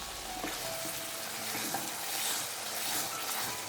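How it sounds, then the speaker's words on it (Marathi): Spices and kasuri methi fry in a hot pan for a mix vegetable bhaji, giving a steady close sizzle with light crackles throughout, no voices. "आता आपल्याला हे व्यवस्थित फ्राय करून घ्यायचं."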